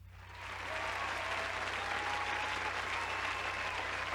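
Steady applause from a studio or small crowd welcoming a guest on a podcast about the Japanese furry fandom, rising over the first half second and holding level, moderately loud and unbroken with no talk.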